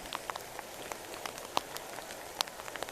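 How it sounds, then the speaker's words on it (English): Rain patters on surfaces during a hike in the Wind River Range, a soft steady hiss dotted with distinct nearby drops, and nobody speaks. "Another day of walking in the rain. So we're experiencing rain."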